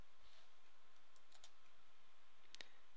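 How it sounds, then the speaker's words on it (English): Sparse keystrokes on a computer keyboard in a quiet room, a few faint clicks spread out, then a short quick burst of taps near the end. "Just type in the term workflow."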